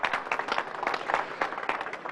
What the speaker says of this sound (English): Oh, it's worth a clap